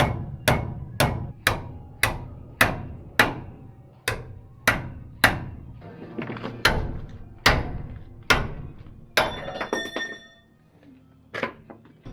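Old bushes being hammered out of a tractor's axle pivot on a farm: a steady run of loud metallic blows about every half second, close by, with a few faster, lighter taps near the end and no talk.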